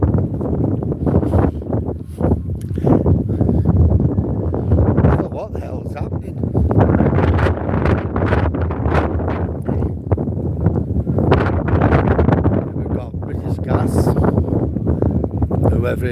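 Gusting wind buffets the microphone along a seaside promenade between a camper van and houses, roaring in uneven surges throughout, with a person talking at times over it.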